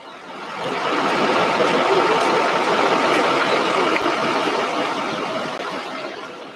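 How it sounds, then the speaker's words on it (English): Steady broadband rumble of an idling truck engine parked near the main gate of the SpaceX Starbase launch site at Boca Chica, Texas, loud and constant, swelling slightly then easing. "There is a truck behind us on its lunch break, so they will be shutting off that truck behind me, and it'll be less noise."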